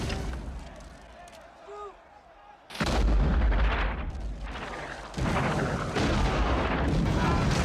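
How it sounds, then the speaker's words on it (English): Heavy French cannon and mortar artillery booms in sustained roaring bursts, loud fire rumbling on and off after a quieter stretch, with a voice speaking. "the French answered back with a burst of cannon and mortar rounds"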